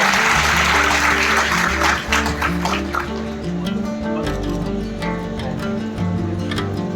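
Audience applause at a student award ceremony of a free computer education academy, a loud burst of crowd clapping that thins after a few seconds while background music with a steady beat continues underneath.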